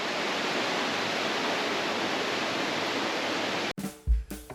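Wahconah Falls, a small tiered waterfall spilling into a stream, rushes as a loud, steady broadband roar, then cuts off abruptly near the end with a few low bumps.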